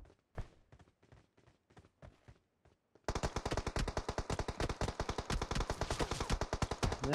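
Rapid gunfire in the PUBG Mobile battle royale game: a few sparse shots first, then a loud, continuous burst of automatic fire that runs several seconds without pause.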